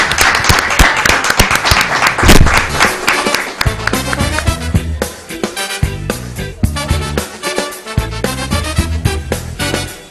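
A television studio audience applauds the guest Piero with a burst of dense clapping over the first few seconds, after which the clapping gives way to music.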